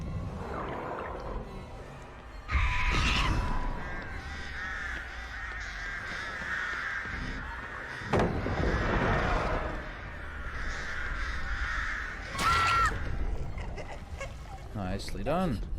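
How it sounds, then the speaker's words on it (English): Crows caw repeatedly in the horror video game Dead by Daylight, raspy harsh calls overlapping in a flock, loud and close, with a few sharp game impacts and a voice talking in places. "We'll let the crows disappear like that."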